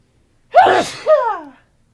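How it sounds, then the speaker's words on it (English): A single sharp sneeze with a voiced burst, followed at once by a second shorter sneeze-like exhale, close and loud with silence around it. "Was that a sneeze?"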